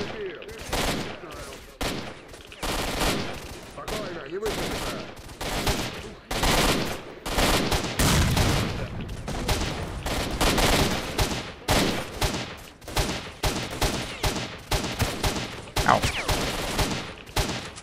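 Bursts of rapid gunfire crack repeatedly in S.T.A.L.K.E.R.: Shadow of Chernobyl, volleys of automatic weapons overlapping in a loud, chaotic firefight with short pauses between salvos.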